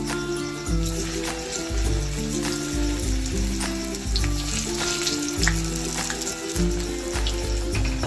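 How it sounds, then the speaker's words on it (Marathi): Alu vadi, colocasia leaf rolls, fry in hot oil with a loud, steady sizzle and crackle, punctuated by pops and bubbling bursts throughout, and no voices. "तेल गरम झालेले आहे आपण याच्यामध्ये वड्या घालून घेऊया"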